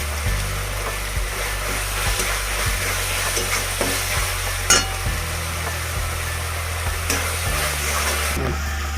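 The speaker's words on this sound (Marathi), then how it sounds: "छान मिक्स करून घेऊया आणि आता मॅगी मसाला टाकते मी" Schezwan fried rice being stirred with Maggi masala in a pan, a steady low-level scraping and faint sizzle running throughout with occasional sharper spoon knocks against the metal.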